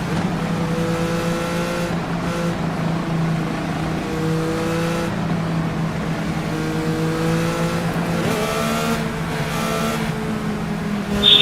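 IndyCar-style race cars in iRacing roar off a three-wide start, several engines droning together with rising, overlapping pitch sweeps as they accelerate and shift.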